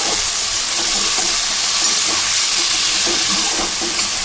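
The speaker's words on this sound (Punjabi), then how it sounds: "ਹੁਣ ਅਸੀਂ ਇਹਦੇ ਵਿੱਚ ਪਾਵਾਂਗੇ ਅਰਬੀ ਹੁਣ ਅਸੀਂ ਇਹਨੂੰ ਚੰਗੀ ਤਰ੍ਹਾਂ ਫਰਾਈ ਕਰਾਂਗੇ" Taro root (arbi) frying in hot oil: a loud, steady sizzle and hiss close by, with faint stirring scrapes, no voices.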